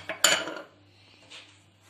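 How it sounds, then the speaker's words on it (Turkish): Salt and yeast being mixed into flour in a bowl with a utensil, a sharp metallic clink followed by faint scraping and a second soft clatter. "Tuzumu ve mayamı karıştırıyorum arkadaşlar."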